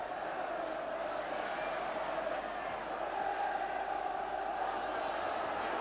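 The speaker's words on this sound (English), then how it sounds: "The Derby crowd responding well." Derby County football crowd at a league match, a steady dense roar of thousands of fans filling the stadium, continuous and fairly distant with swelling chants and cheers.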